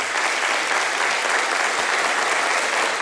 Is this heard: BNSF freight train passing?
no